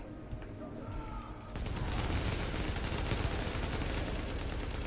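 Rapid bursts of gunfire in The Division, set in New York, rattle loudly and almost continuously after a quieter opening, with faint voices in the background.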